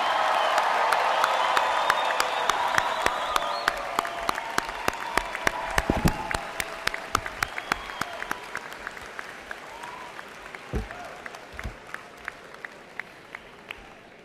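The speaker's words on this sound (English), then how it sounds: "Ladies and gentlemen, a round of applause for our graduates of the class of" A large audience at a 2013 business school commencement applauds the graduating class, starting as a full roar of clapping and cheering that thins out to scattered, distinct hand claps as it fades.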